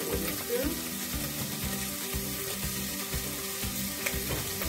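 Onions and bacon sizzle steadily in a pot, with a continuous close crackle and faint scraping from stirring with a wooden spoon, no voice over it.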